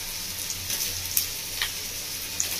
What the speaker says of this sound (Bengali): এবার আমি দিয়ে দিচ্ছি মধ্যে শিমলা মির্চ